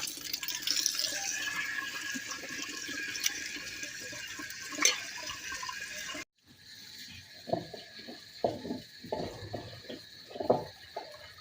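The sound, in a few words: water poured into a cooking pot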